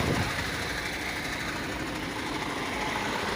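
A refrigerated truck's engine idles steadily during coupling with its trailer, a continuous low rumble with broadband hiss and vibration, close and even throughout.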